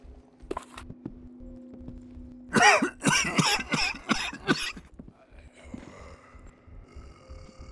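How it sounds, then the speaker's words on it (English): A run of harsh, close coughs from the player character in the VR video game The Walking Dead Saints and Sinners, about five rapid bursts in the middle, set against quiet footsteps and low background ambience. "this coughing's gonna get me in trouble."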